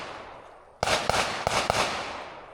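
Four sharp gunshots fired in fairly quick succession at a shooting class, loud and close, with a ringing tail after each shot.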